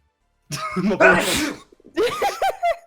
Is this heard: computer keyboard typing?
no